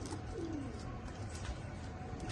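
Pakistani flying pigeons kept for sale coo softly in a loft, a low rolling coo rising briefly over a faint background hum, quiet and close.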